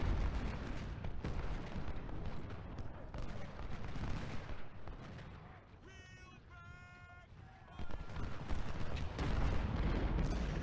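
Civil War cannon and musket fire in Ultimate General: Civil War at Gettysburg, a continuous rumble of booms and crackling volleys with a bugle-like call midway, while someone talks over it.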